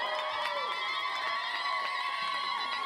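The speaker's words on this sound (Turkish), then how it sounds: "Gelinin ablasını bir alkışlar mıyız?" Guests at a henna night celebration cheer and shout for the bride's sister in a dense, steady crowd roar, with high voices and whistling over the noise.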